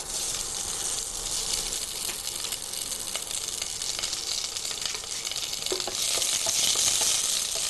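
Steady, dense sizzling of sliced onions frying in a pan, with occasional stirring clinks and a slight surge in sizzle near the end.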